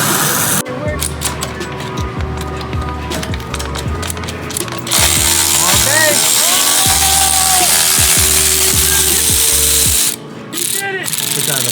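Ratchet wrench removing a bolt on a Nissan Skyline R33, a rapid series of close mechanical clicks in repeated strokes over a steady engine or workshop hum, with voices talking.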